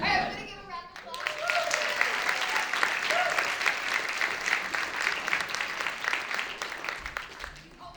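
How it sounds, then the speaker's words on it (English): Audience applause at a live stage event, a dense crowd clapping steadily for about seven seconds after a brief lead-in, loud and sustained. "All right, we're gonna give a round of applause."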